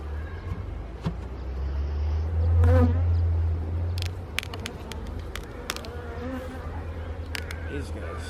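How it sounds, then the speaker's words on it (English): Honeybees buzzing loudly after the lid of a beehive is pried open, a dense swarming drone with individual bees whizzing close past the listener, plus a few sharp knocks and handling clicks. "a lot of bees."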